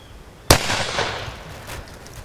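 A single sharp blast from a Traditions Napoleon III mini cannon, fired outdoors, followed by a rolling echo that fades over about two seconds.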